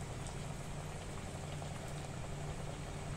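Mixed dal and pulse vadas fry in hot oil over a medium flame, giving a steady, dense sizzle that fills the whole stretch without letup.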